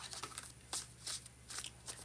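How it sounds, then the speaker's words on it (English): Tarot cards are shuffled by hand in quick, soft riffling bursts, about six short rustles in a row, close and quiet with no talking. "I'll just keep shuffling."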